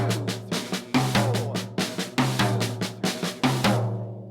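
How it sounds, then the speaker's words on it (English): A six-stroke roll phrase on a drum kit, the cycle restarting on beat 2, with rapid strokes and regular accented hits pulsing evenly, close and loud, then a ringing decay at the end. "you're going to go back and start the cycle of the 6-stroke roll immediately again on beat 2"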